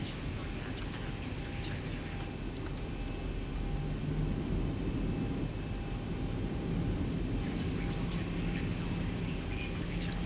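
A Boeing 737 taxiing in X-Plane 12, heard as a steady low engine rumble and broadband hiss with faint tonal whine, continuous and even, with people talking over it.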